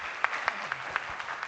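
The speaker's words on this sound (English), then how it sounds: "big clap for her" Brief, sparse applause from a pharmacology conference audience after an oration, with a handful of distinct claps over a soft background and faint murmuring.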